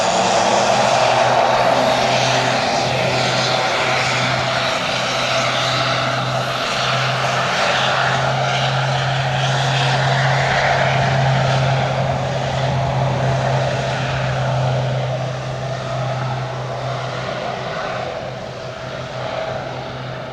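A general aviation propeller airplane takes off from runway 26 left, its steady engine drone holding loud and close for about seventeen seconds before easing slightly as it climbs away.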